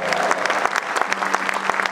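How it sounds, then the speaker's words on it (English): Audience applause and cheering at a comedy folk band reunion fundraiser in a courtyard, a lively burst of clapping with crowd voices mixed in, loud and close. "Let's have a big cheer for Mike George"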